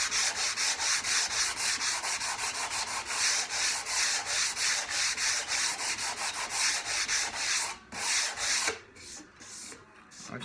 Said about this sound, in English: So when I go to my next grit, I'm just sanding again with basically the same size grit.